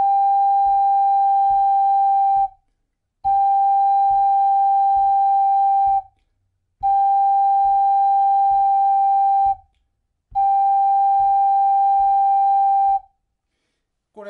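Ocarina sounding a steady long note on A, held for three beats with a one-beat rest, four times in a row, each tone clean and even over a soft ticking metronome.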